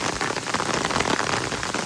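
A heavy hailstorm in Leicester, dense continuous patter of ice and rain striking surfaces all around, loud and unbroken with no voices.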